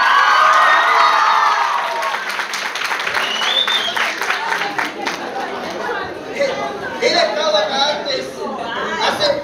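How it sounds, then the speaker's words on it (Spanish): A lively crowd at a Game 2015 gaming convention in Chillán, Chile, applauds and cheers amid steady chatter and shouting voices, a dense, loud wash of noise that holds throughout. "Fuerte el aplauso para Ivy del canal."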